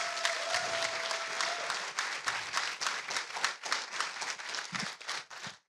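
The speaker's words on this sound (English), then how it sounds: "Please give Sanaa a warm applause." A crowd at a teach-in and panel discussion claps warmly for an introduced speaker, a dense, fairly close burst of many hands that thins into sparser, distinct claps toward the end.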